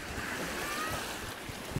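Ocean surf washes in at a beach as a continuous broadband roar with wind buffeting the microphone, steady and close before cutting off abruptly.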